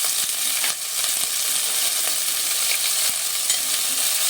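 Chicken with ginger-garlic paste frying in hot oil, heard up close as a loud, unbroken crackling sizzle with small pops throughout and no speech.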